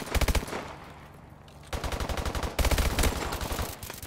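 Gunfire from an AMR 9 submachine gun in a first-person shooter, with rapid automatic bursts: a short volley, a pause, then two longer sustained strings of close, loud shots.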